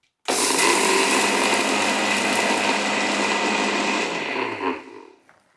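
Mixer grinder whirring peanuts, sesame and cardamom into powder: a loud, steady, close motor roar starting abruptly and running about four seconds before spinning down, no voices.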